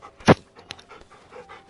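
A dog pants in short, sharp breaths close to the microphone, mostly one loud huff then a couple of fainter ones, heard indoors with no talking.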